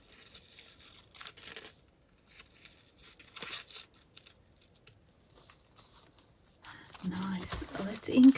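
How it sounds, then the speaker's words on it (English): Scissors cut a larger paper template out of a plastic sleeve for an autumn leaf craft, giving soft snips and crinkling rustles that are faint and intermittent at first, then louder, closer crinkling near the end. "So I'm going to grab the larger template and cut it from this sleeve."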